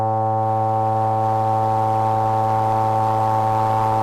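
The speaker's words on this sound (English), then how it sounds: "you can hear we're modulating the filter with the noise" A synthesizer tone with its filter modulated by noise, a steady buzzy drone with rich stacked harmonics and a subtly grainy, fluttering edge, sustained alone for about four seconds.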